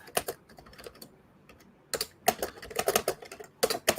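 Bursts of rapid clicking keystrokes on a computer keyboard, loud and close to the microphone, with a pause in the middle before the typing resumes.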